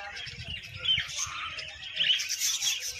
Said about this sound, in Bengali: এগুলো হলো ছোটো ছোটো পাখি, ঘরের ভিতরে ছোটো বানা আছে।